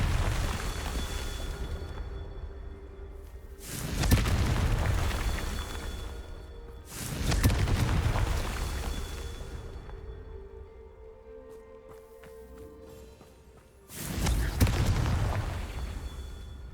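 In Hogwarts Legacy, the Confringo spell lands as several heavy, booming blasts, each a loud burst that rolls off slowly, spaced a few seconds apart over quieter game ambience.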